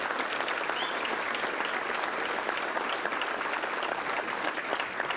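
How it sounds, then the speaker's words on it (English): Banquet audience applause fills a hall in dense, continuous clapping that holds steady and strong from start to finish. "So one more round of applause for Isaiah and his great job."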